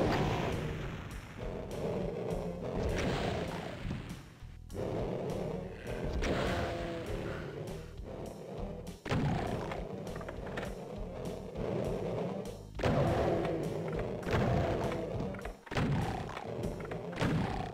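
Rockets fire and explode in the video game Doom II, producing repeated heavy booming blasts with rumbling, roaring tails that overlap almost continuously at a loud level.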